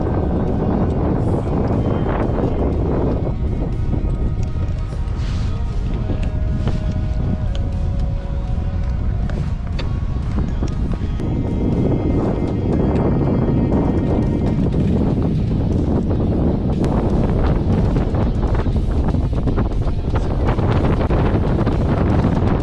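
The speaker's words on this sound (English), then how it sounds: "It's pretty windy." Strong wind buffets the microphone near the summit on the Ha Ling Peak hike, a loud, continuous roaring rush with gusty swells and no speech.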